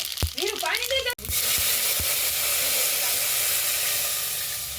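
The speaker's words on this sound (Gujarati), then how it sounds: "આપણે જીરું ઘીમાં એડ કરી દીધું છે" A voice briefly at first, then cumin hits hot ghee with a loud, steady sizzle and crackle that keeps going.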